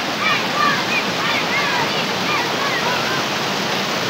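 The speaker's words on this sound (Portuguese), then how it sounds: "Estou dentro da cachoeira, sítio alto," A waterfall at a rural farm site, São José do Almonte, pours in a steady, loud broadband rush from up close, with faint bird chirps scattered above it throughout.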